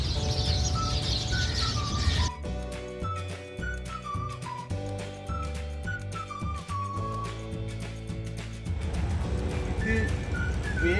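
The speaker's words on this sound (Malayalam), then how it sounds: "ആ കിളികളുടെ സൗണ്ടാണ് ഞാൻ കേൾക്കുന്നത്." Small birds in trees give high, bright chirps and whistled notes in repeated bursts, fairly close and clear, over a steady background hum in a residential neighborhood in Al Furjan, Dubai.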